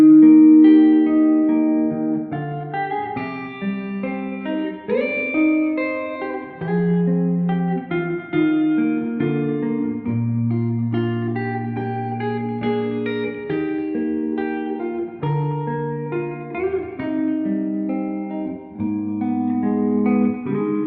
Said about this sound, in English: I set the delay to sound kind of like a reverb, and then I ran it into the Zelzah